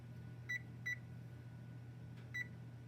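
Three short electronic beeps as a kitchen oven timer is set for 12 minutes while baking sour cream chocolate chip scones, two close together and one after a pause, over a steady low appliance hum.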